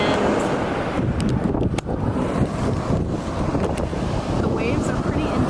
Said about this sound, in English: the waves are pretty intense